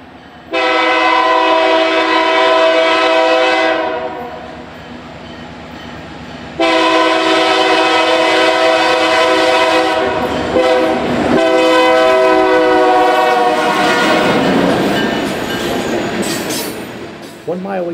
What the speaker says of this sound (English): The now rapidly accelerating train is clear of the interlocking